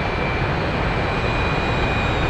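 Steady, loud jet engine roar from a plane flying in the DCS flight simulator, with Mig-15, Mig-21, Mirage 2000, Su-27, F-15 and Hawk aircraft in formation, a constant dense rush with a thin high whine throughout.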